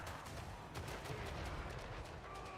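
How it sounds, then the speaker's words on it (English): Cannons fire during a Total War fantasy battle, a rapid scatter of faint, crackling reports over a continuous distant din of combat, with no clear voices. "Cannons firing away."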